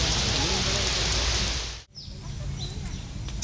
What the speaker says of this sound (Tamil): சிங்கப்பூரில் இன்றைக்கி சரியான மழைங்க.